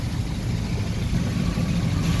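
Low rumbling idle of a heavy tanker truck engine nearby, a steady drone amid traffic on the NH 66 highway in Kerala.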